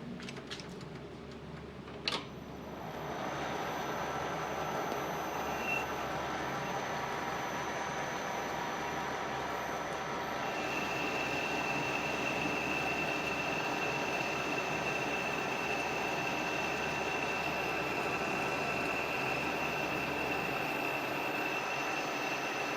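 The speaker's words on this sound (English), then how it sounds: "So we'll finish it out with a boring bar." A metal lathe bores out a Yamaha 250 or 360 Enduro fork tube with a boring bar. A sharp clank comes early, then a steady, quiet machining hum with a faint high whine runs on.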